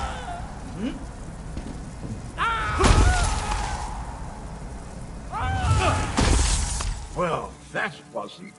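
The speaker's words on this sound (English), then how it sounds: "Try smashing these glass balls." Glass balls shatter in the Elder Scrolls Online fantasy game, with two bright crashing bursts midway and a quick run of sharp glassy cracks near the end over a steady ambient game background.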